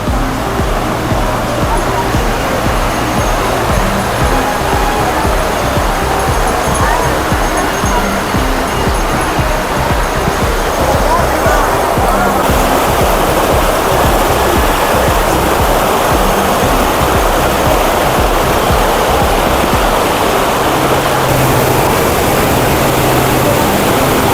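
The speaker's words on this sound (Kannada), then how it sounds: "ಎಷ್ಟು ಚೆನ್ನಾಗಿ ಬರ್ತಾ ಐತೆ ನೀರು ನೀರೇನು ಕಡಿಮೆ ಇಲ್ಲ ಜಾಸ್ತಿನೇ ಐತೆ" Steady, loud rush of heavy water falling at Hogenakkal Falls in Karnataka fills the whole stretch, a dense continuous roar without pause.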